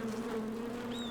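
Creature buzzing from spriggans in the Skyrim video game, a steady faint insect-like drone with a brief higher whine at the end, heard alone.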